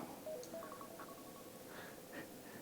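Phone reminder alarm ringing, a faint series of short electronic tones and beeps at varying pitches, quiet and alone.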